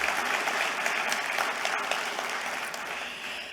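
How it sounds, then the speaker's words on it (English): Conference audience at a national aged care provider event applauding, a full, sustained round of clapping that holds steady and then starts to fade, with no talking over it. "please give Janet and the team a round of applause and acknowledgement"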